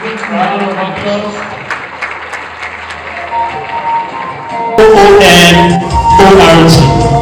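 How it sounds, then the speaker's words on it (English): Clapping at an indigenous award ceremony, first under a loud talking voice and background sound, then swelling into a fuller, louder burst of audience applause for the last couple of seconds. "Round of applause."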